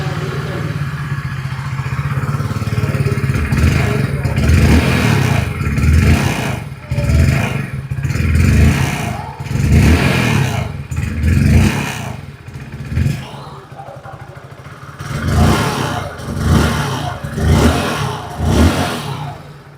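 A 2026 Hero HF Deluxe Pro motorcycle with a 4-speed gearbox runs close by, its engine pulsing through repeated revs and dips over a steady mechanical chug.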